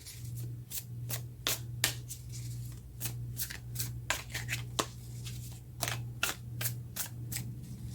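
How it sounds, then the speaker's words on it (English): A tarot deck is shuffled by hand with one arm in an immobilizer, making quiet rapid card riffles and taps in an irregular rhythm over a low steady hum, with no talk. "shuffling's a little bit of a challenge with this immobilizer on"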